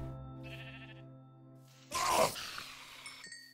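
A sheep in Minecraft bleats once, loud and close, with a short harsh cry standing out over a steady synthetic backdrop of tones.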